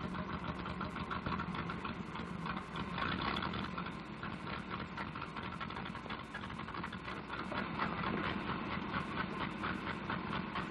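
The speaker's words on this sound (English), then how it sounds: "this engine sure is missing" A rough, uneven engine runs steadily throughout, its loud, continuous drone broken by faint irregular stumbles and knocks, with no voices.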